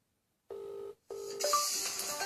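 A phone rings with an incoming call in an accessibility setup for hands-free phone control: two steady electronic tone bursts separated by a short gap, the second joined by brighter, higher chiming tones, fairly quiet and with no one talking.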